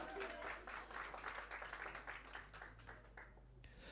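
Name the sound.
audience applause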